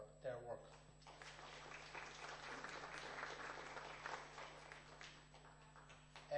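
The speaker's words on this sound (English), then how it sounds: "the Tidy Towns Committee deserve a great round of applause for their work" Audience applause for a local Tidy Towns Committee at a community gathering in Cavan, a steady roomful of clapping lasting several seconds at moderate, fairly distant level.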